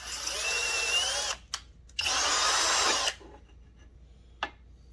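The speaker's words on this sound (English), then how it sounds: "they really don't like it when I use a drill to do it" An electric drill bores a hole in a Husqvarna 372 XP chainsaw part, whining in two long bursts with short pauses and a brief blip after, close and loud, with no talking.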